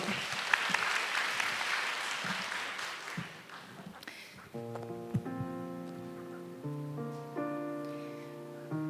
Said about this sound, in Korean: 다시 박수 부탁드릴게요